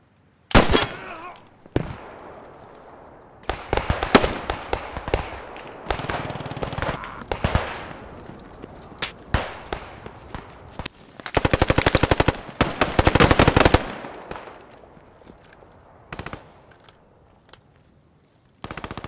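Loud bursts of automatic fire and single gunshots from a WW2 shooter video game, with rapid rattling volleys coming in irregular clusters separated by quieter gaps.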